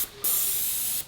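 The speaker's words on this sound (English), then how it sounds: "You could spray it at that pressure." A paint sprayer coats trim in one short, loud, close burst of hissing spray that starts abruptly and cuts off about a second later, with no voices.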